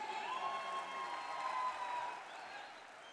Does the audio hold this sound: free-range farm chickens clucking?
no